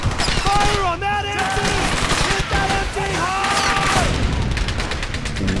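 Gunfire and rapid bursts in the Brothers in Arms: Hell's Highway World War II shooter, dense and loud throughout, mixed with shouted squad voices and musical tones.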